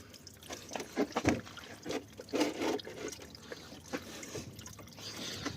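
Fluid drains out of a van during routine maintenance, splashing and gurgling in uneven surges that swell and ease, close by with no talk.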